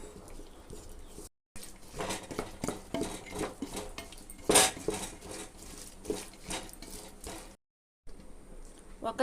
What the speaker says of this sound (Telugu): ఇప్పుడు పప్పులు పోసేసుకుందామండి. బాగా తిప్పుకుంటూ ఉండాలండి.